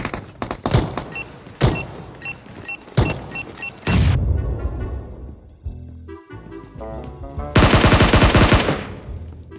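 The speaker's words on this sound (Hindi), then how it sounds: "ऐसे गोली थोड़ी ना चलानी है अंधाधुन" Rapid bursts of automatic gunfire in a battle video game, loud and close, with repeated shots breaking into a dense, heavy volley near the end.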